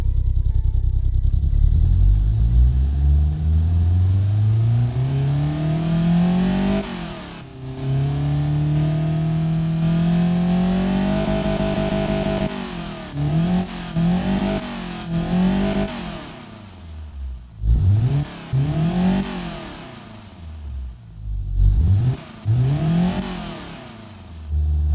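A stock Nissan KA24DE four-cylinder engine replica runs and is revved repeatedly, its pitch climbing in long smooth sweeps and then in quick sharp blips between idle dips, loud and close, with no talking.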